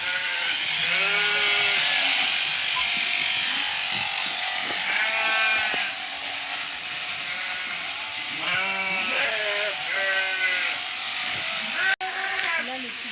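Sheep bleat repeatedly during shearing, wavering calls in several bursts over a constant buzzing electric shearing clipper, with a person talking at times.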